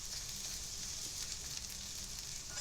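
Shredded onion, carrot and pepper are stir-fried in a wok with a soft, continuous sizzle. The hiss stays fairly faint and even all the way through, with no voices over it.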